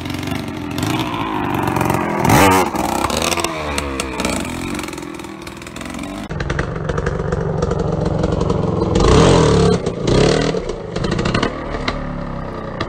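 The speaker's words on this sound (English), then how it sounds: "Wheelie straight over the log and let your momentum carry you over." Dirt bike engine revving and clattering as the rider wheelies over a suspended log, loud and close throughout, with throttle surges and chassis clatter, a sharp burst near the midpoint and another later on.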